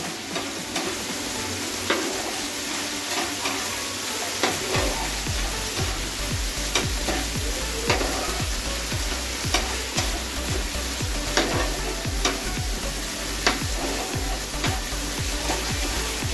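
Chicken kala bhuna with its gravy is stirred and mixed in a frying pan, a dense continuous sizzle with repeated rhythmic spoon scrapes throughout, close and steady, no voices.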